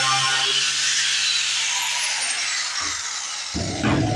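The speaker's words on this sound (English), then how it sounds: "I'm going to put the grinder on that, remove some of the rust" An angle grinder strips rust from car body metal, giving a continuous loud, harsh abrasive whine close by that holds steady throughout and changes tone slightly as the disc bites.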